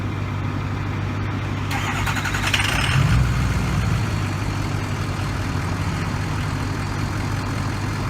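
A Ford F550 Lariat truck with a 6.0 PowerStroke diesel cranks briefly and catches, then settles into a steady, loud, close idle rumble that runs on alone.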